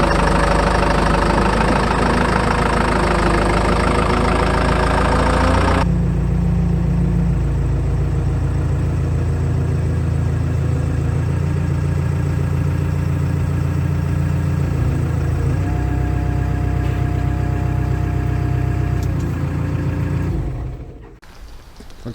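An old Caterpillar bulldozer engine runs steadily and loudly for the whole stretch, a deep, rough, knocking drone that shifts in tone partway through and drops away briefly near the end.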